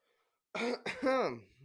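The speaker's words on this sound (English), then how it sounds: "I had to clear your throat right in the mic, huh?" A person clears their throat close to a microphone, two rough guttural bursts after a moment of silence, the second drawn out and rasping.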